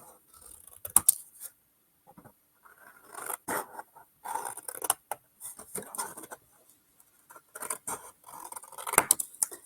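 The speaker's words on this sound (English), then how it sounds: "I found it's a lot easier just to do this with your scissors." Scissors snip paper corners repeatedly in short bursts of crisp cuts separated by pauses, close and fairly quiet.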